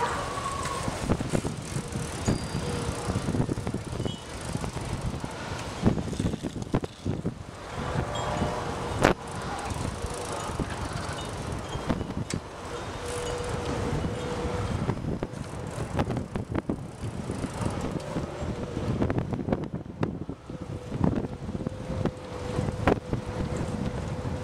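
Strong, steady wind buffets the microphone throughout a bicycle ride outdoors, a continuous roaring rumble with occasional faint clicks and rattles from the bike.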